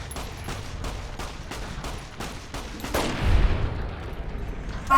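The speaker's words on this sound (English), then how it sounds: "Fucking what a shot from me" Police pistol gunshots in Fallout New Vegas crack out in a rapid series of about ten sharp reports at an even rhythm, followed by a louder boom and a fading tail.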